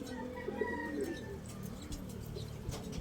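Soft pigeon cooing with a few low, rounded coos over a steady background murmur, with faint chirps mixed in.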